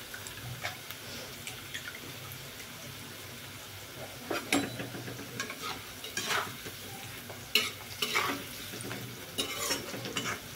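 Food fries in hot oil while being stirred, with a constant low sizzle under scattered scraping and clinking of a utensil against the pan, close and moderately quiet, no talk.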